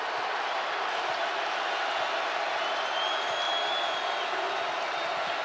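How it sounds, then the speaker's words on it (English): Basketball crowd on its feet at Coleman Coliseum in the closing seconds of a tie game, a dense, steady roar of cheering fans filling the arena, loud and continuous throughout. "Crowd on their feet at Coleman Coliseum with 40 seconds to play in a tie ball game."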